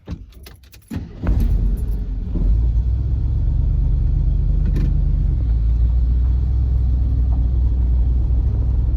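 A 1982 Jeep Wagoneer Limited pulls away after a brief jangle and rattle at the start, then a steady low engine rumble and road noise from inside the cabin, with no talking.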